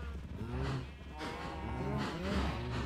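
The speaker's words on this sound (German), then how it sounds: "Wir haben gleich keine Kühe mehr" Several cows in Minecraft mooing one after another, low drawn-out calls overlapping at close range with a steady background hum.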